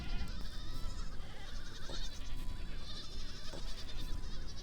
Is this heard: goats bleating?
yes